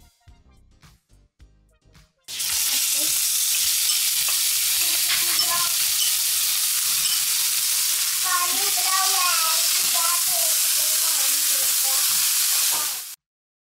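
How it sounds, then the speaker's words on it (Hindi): Marinated chicken frying in a teaspoon of olive oil: a sudden loud, steady sizzle that starts after a quiet moment and holds throughout, with occasional spatters and stirring, no talking. "अब मैं 1 चाय के चम्मच ऑलिव ऑयल में मैरिनेटेड चिकन तैयार करूंगी।"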